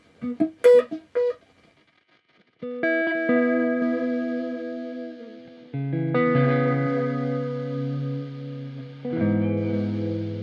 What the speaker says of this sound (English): So let's say we want the repeats to be with just one echo.